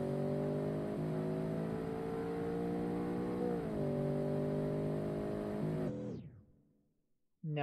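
A car's engine pulls hard from a launch, its harmonic drone climbing and briefly dipping at a gear change, loud and close, then cutting off abruptly into near silence.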